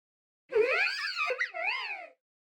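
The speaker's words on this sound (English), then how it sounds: "Bunny's evolution, Lopunny," Lopunny's cry from the video game Pokémon Brilliant Diamond, a single synthesized warbling call of about a second and a half with bending, sliding tones, heard alone against silence.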